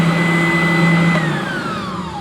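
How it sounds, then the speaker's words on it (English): An oscillating spindle sander in a home workshop runs with a loud, close, steady motor whine and hum, then the pitch slides downward as it begins to spin down. "Oscillating spindle sander. This thing's okay. It's a little loud"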